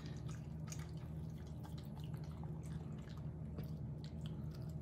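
A hungry dog eats wet food with rich gravy, rice and herbs, making a mess: steady wet, squishy chewing and dripping slurps up close over a low continuous hum.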